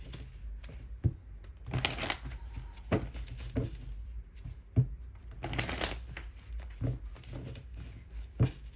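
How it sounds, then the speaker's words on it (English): Tarot cards are shuffled repeatedly up close, with bursts of riffling and sharp taps as the deck is squared, quiet otherwise and without speech. "I need to shuffle."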